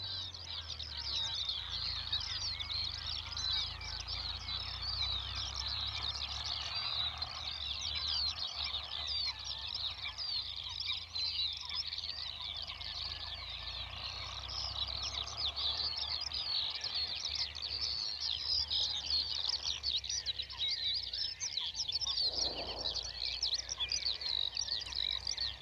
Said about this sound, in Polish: aby posłuchać prawdziwego koncertu ptasiego